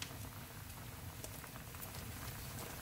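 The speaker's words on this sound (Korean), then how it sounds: "끓기 시작하는데 중약불에서 한 10분 정도 됐거든요" Kimchi stew with pork bubbling in a pot over medium-low heat, a steady close, even simmering patter with soft popping bubbles and no talk.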